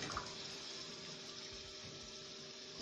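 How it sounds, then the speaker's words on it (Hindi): A cup of water poured into beef mince cooking in a pan, a steady faint rushing hiss that runs unbroken and quiet from start to end. "1 कप पानी ऐड करेंगे और इसको हल्की आंच पे हम पकने देंगे।"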